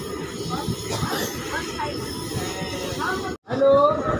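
Malda Town to Katihar daily passenger train rolling on after leaving Paranpur Road Junction, a steady close rumble of wheels and carriage noise, briefly cut by a short gap, then a louder rattle with a high wheel squeal.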